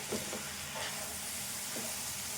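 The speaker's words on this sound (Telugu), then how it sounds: "ఇది మళ్ళీ ఒకసారి ఇట్లా కలుపుకోవాలి." Egg and cluster bean curry stirred in a hot pan, with a constant hissing sizzle and a few soft scraping stirs, close and even.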